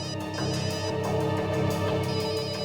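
A mobile phone rings with an incoming call, a steady musical ringtone with sustained tonal layers playing continuously and fairly loud for a few seconds, without speech.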